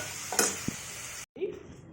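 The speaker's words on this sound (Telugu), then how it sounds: "మళ్ళీ పోపు పెట్టుకుని" Tempering spices hit hot oil in a pan with a short burst of sizzle and a utensil clink, then a brief cut and a softer sizzle.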